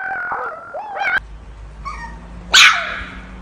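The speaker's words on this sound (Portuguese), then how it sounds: "são 10 filhotes de Husky uivando" Ten young husky puppies yelp and give short, wavering howls, with a brief louder burst of high cries near the end over a low background hum.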